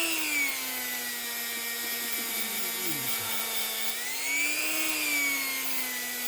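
A power tool buffs burrs off the bore of a cam bearing housing, giving a steady whining drone whose pitch dips slightly and rises again, close and continuous.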